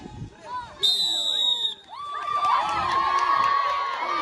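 Spectators cheering at a college sports week race, loud shouts and children's voices with a whistle blast early, the crowd noise building into sustained yelling.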